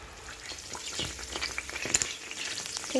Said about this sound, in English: so the sausages are still frying